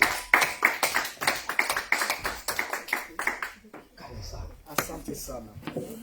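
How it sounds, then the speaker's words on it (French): A church congregation at an Easter service claps hands in a brisk, rhythmic burst of many palms, loud and close, while voices call out over the clapping before it thins into scattered claps. "Rero dukubita amashyi menshi pasiteri Ibanza haguruka"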